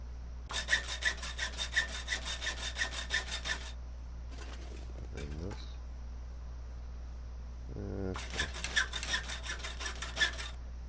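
Hacksaw sawing in the survival game The Long Dark, heard as quick rhythmic rasping strokes in two bursts with a quieter gap between them that carries a few faint shuffling sounds, all over a low steady hum.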